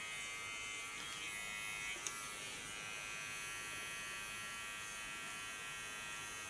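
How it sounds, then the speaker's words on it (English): A small electric hair clipper trims the contour of a short haircut, giving a faint, steady high-pitched buzz throughout with one brief click, no speech. "now I only have to do the contour with a small clipper"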